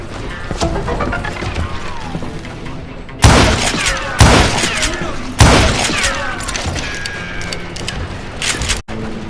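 Loud gunfire in the video game Call of Duty Gunslinger, with three heavy shots about a second apart and a final shot, ringing over a busy game soundtrack with a voice heard in the mix.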